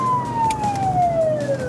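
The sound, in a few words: ambulance siren while driving to an emergency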